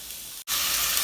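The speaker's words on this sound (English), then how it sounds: "I'll cook my onion." Onion is frying in a hot pan, giving a steady close sizzle and hiss that briefly cuts out, then returns brighter and louder with no one speaking.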